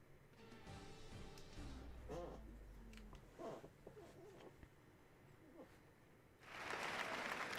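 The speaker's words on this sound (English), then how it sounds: "a huge round of applause" A crowd in the racing video game F1 2020 bursts into applause for about a second at the end, following quiet speech; the whole passage is faint.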